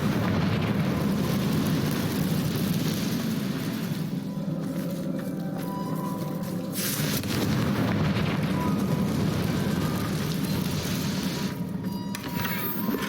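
Blasting spell explosions rumble through a Hogwarts Legacy game scene, a continuous heavy roar with repeated booms and no talk.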